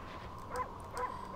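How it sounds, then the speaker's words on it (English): Cartoonish dog barks from the video game Okami, two short yipping barks over a steady background tone of game music. "Okay, we get some barks."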